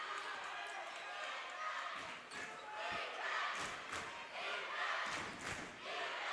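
A high school boys basketball crowd in a gym gets loud and noisy, with sneaker thuds and ball bounces under a commentator's steady talk.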